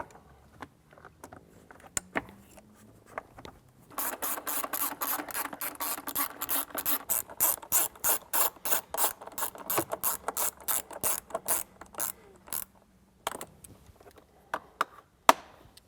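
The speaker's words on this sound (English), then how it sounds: "Now we can reinstall our A-pillar panel." Jeep Wrangler JL A-pillar trim panel being pressed back into place, a quick run of sharp plastic clicks and ratcheting snaps with scattered handling knocks before and after, close and fairly loud, no talking.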